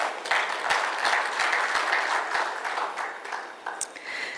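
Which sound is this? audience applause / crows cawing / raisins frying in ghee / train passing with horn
audience applause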